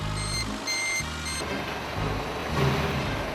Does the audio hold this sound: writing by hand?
no